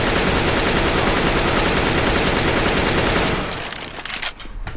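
Continuous rapid AK-47 spray fire in the CS:GO video game, a dense, loud automatic burst lasting a few seconds before cutting off into quieter trailing sounds.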